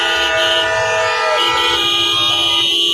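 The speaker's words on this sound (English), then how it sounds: "they're honking their horns" Loud, sustained horns hold steady tones in a busy street scene, with several overlapping blasts continuing for the whole stretch and no speech over them.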